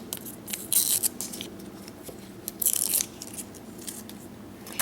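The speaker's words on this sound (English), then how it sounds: "I'm going to peel this label off before I put it in the oven." A sticker label being peeled off a spaghetti squash, two short crisp tearing rips close up against a quiet kitchen background, with no talking.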